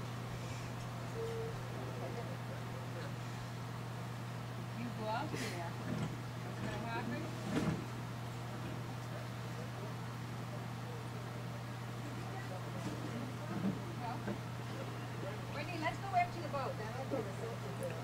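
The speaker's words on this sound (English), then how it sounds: "15 horsepower engine. Ain't getting stopped for shit." A 15 horsepower boat engine drones on steadily throughout at a constant low pitch, with faint voices in the background now and then.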